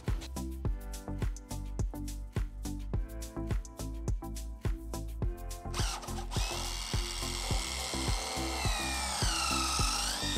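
A power drill bores a hole for running gutter drain wire, with repeated short, close bursts of drilling in a steady rhythm that give way to a continuous high-pitched whine as the bit runs on.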